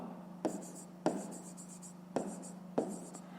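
Handwriting on paper, four short bursts of pen strokes, each starting with a sharp scratch, faint and close with pauses between.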